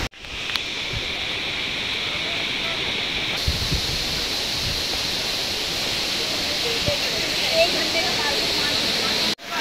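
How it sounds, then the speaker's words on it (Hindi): A small waterfall at Neer Waterfall in Rishikesh pours steadily, a dense, continuous rushing roar that stays close and even throughout, with no voices over it. "ये छोटा झरना है"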